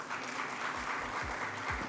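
Steady audience applause at a Palm Expo session felicitating a guest, a dense, even wash of clapping from a crowd holding at moderate level for the full two seconds, with low thumps underneath.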